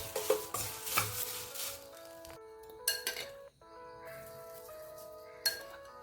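Cornflakes stir-fried in oil in a pan give a quiet crackle with spoon scrapes and light metallic clinks against the pan, in intermittent bursts with pauses.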